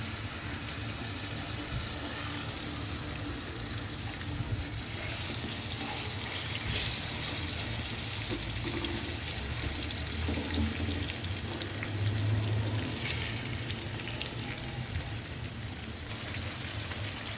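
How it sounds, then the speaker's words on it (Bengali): Surma fish rubbed with salt and turmeric frying in hot oil, a steady faint sizzle and crackle running continuously with no voices. "এখন আমি মাছগুলো তেলটা গরম করে নিয়েছি, এর উপর ভেজে নিব।"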